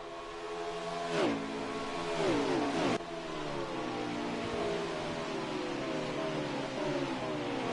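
NASCAR stock car engines from the racing game NASCAR Heat 5 at Chicagoland, several cars sweeping past with rising and falling revs, then a steady engine drone continuing at moderate volume.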